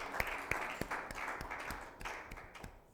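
Congregation clapping in a French-speaking church service, scattered irregular handclaps, fairly faint and roomy.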